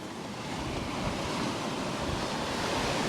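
Ocean waves wash steadily onto an Australian surf beach with dark sand, a continuous loud roar of surf mixed with wind buffeting the microphone, no voices.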